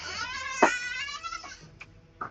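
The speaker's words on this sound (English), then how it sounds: "No, I don't want all these cats in the room." Cats meowing indoors: a long, loud, drawn-out wailing meow up close, followed by shorter fainter mews, with no talking.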